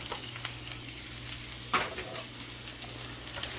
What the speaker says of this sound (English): We're going to throw the onions and garlic.